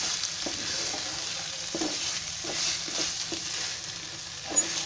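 Spatula steadily stirring shredded cabbage masala with khoa in a hot pan, soft rhythmic scraping over a continuous gentle sizzle, close and fairly quiet with no talking.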